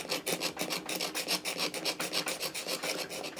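A kitchen knife is drawn through a Chef's Choice pull-through sharpener in quick repeated rasping strokes, about one every sixth of a second, close and fairly quiet with no voices.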